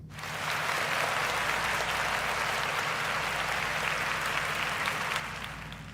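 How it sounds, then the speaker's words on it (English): A round of applause from many hands fills the space as a steady, dense patter. It swells in quickly, holds evenly, then fades near the end. "I'm going to give myself a round of applause for getting Junior back."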